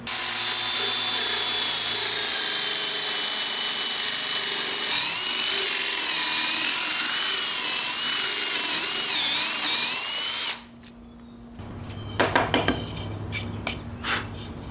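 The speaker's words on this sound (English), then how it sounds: "I'm going to go ahead and drill a hole so you can stuff bags in." A power drill whines steadily at high speed for about ten seconds while drilling a hole in pallet wood, then stops abruptly, followed by clattering and scraping of tools and pieces.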